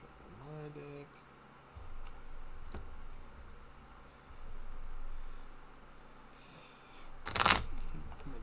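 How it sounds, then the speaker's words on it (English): A deck of cards being shuffled during an Arkham Horror card game, a short burst of riffling and fluttering near the end, preceded by quieter table handling and faint room noise. "Shuffle my deck."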